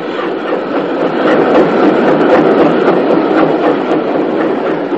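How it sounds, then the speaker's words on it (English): A restored steam locomotive, British Railways number 30583, runs along the line with a loud, steady rolling rumble and rhythmic clicking of wheels on rail, close and continuous with no talk. "so it was that Pat Whitehouse and John Adams came to film this extraordinary locomotive, kept in magnificent condition after a recent overhaul"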